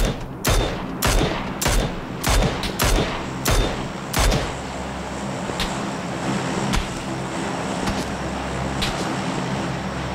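Video game gunfire in a battle royale match: a dense run of sharp shots and bursts over the first four seconds, then sparser single reports, loud and near over a steady rumbling background.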